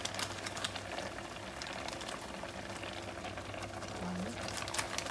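Chicken curry ingredients boil steadily in a pot with a continuous bubbling hiss, while a voice talks over it.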